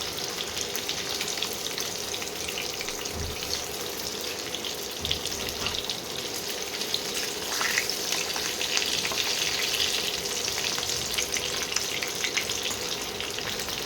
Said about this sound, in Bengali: ভালো করে লাল লাল করে ভেজে নিতে হবে